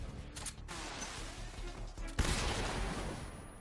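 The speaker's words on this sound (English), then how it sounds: "Here's a stun grenade." A stun grenade goes off in Metal Gear Solid 3, with a sudden loud burst about two seconds in that spreads into a dense, roaring wash. Muffled game noise plays beforehand.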